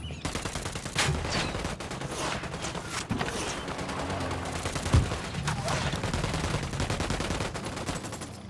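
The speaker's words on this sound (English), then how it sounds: "Opening fire on these fuckers." Automatic and burst gunfire in the tactical shooter Ghost Recon Wildlands, continuous volleys of shots with a sharp louder crack near the middle, steady and fairly close throughout.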